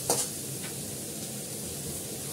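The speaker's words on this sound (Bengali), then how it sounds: "এটার সঙ্গে আমি আলুটা দিয়ে দেবো। আলুটাকে ভালো করে কষাবো।" Potatoes frying with ginger paste in a pan give a soft, even sizzle throughout, with one brief clink of a utensil at the very start.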